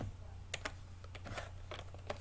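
Keys clatter on a computer keyboard during a math lesson, with a few quick bursts of typing spaced across a couple of seconds against a low steady hum, quiet and close, with no talking.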